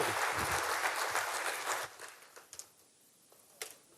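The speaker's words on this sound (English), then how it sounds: "can we please give a warm round of applause for Kevin Bailey." Warm applause from a conference audience, a full burst of clapping for about two seconds that fades quickly to a few scattered claps.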